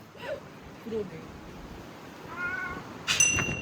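A cat meows softly a few times amid background voices and ambient noise, the calls brief and somewhat distant.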